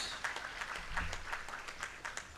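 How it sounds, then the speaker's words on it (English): Brief, fairly faint applause from an audience at an inaugural conference ceremony, a loose patter of individual claps. "May we have a big, big, big round of applause."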